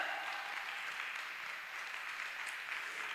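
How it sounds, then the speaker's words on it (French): A crowd claps for an autism association at a live afternoon concert performance in Wattrelos: even, continuous applause heard from a distance, moderately faint and steady throughout without voices. "Un tonnerre d'applaudissements pour eux!"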